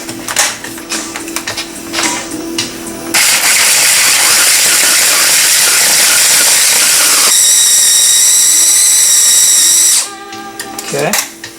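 A kitchen appliance whirs loudly while grinding walnuts for walnut cookies, a steady buzzing roar lasting several seconds that starts and stops abruptly between quieter moments.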